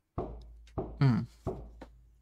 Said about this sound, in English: a loud knock at the door woke me up